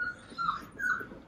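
A dog whimpers in short, high, plaintive whines, two or three close, fairly faint cries in quick succession.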